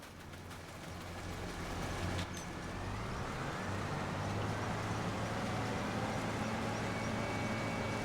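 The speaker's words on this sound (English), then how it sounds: "I gotta go move the tractor" A tractor engine in the farming video game Farming Simulator 25 drones steadily and loudly, a continuous low rumble that builds slightly and holds with a rising whine, no talk over it.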